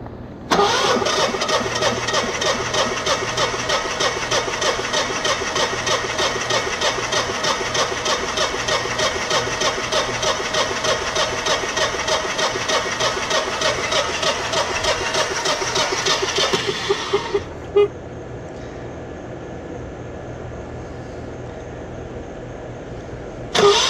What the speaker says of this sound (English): Throttle still wide open. We let it crank.